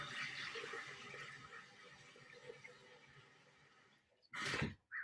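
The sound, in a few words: water filling a blender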